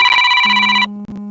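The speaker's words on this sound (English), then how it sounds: "My phone's ringing." A mobile phone ringtone plays loud and close, a bright electronic melody that shifts to a lower sustained tone partway through, with no voices over it.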